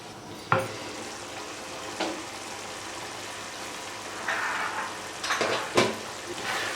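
Minced meat keema with peas simmers in a pan with a soft, continuous sizzle, broken by several sharp clinks and scrapes of a spoon against the metal as it is stirred. No one speaks.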